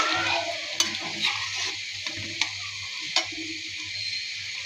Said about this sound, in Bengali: হয়ে গিয়েছে মুচমুচে পাকোড়া ভাজা